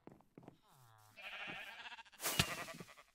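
Sheep bleating in a multiplayer survival video game, a few short wavering bleats with quieter blips between them, followed by a sharp burst of noise near the end.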